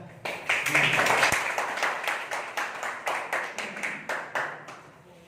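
An audience claps at a school classroom session, a brief burst of applause thinning into a sparse, rhythmic series of distinct claps that gradually fades, moderately quiet.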